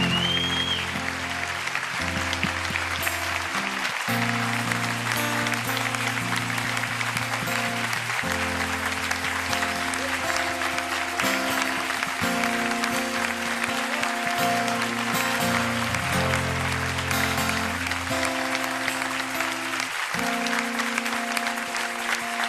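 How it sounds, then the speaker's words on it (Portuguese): An audience applauds at a religious talk by a Catholic priest, steady sustained clapping that runs throughout while music with held chords plays loudly alongside it. "uma grande salva de palmas"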